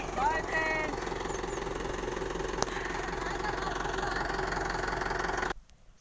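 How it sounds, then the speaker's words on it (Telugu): A tractor carrying a pigeon pea harvest runs with a steady, low, chugging engine throb and rhythmic knocking. It holds constant for about five seconds, with a brief high whine near the start, then drops away abruptly. "కందికాయ అయితే ట్రాక్టర్ మీద ఎక్కించిండ్రు ఇక ట్రాక్టర్ తీసుకొని పోతుండ్రు"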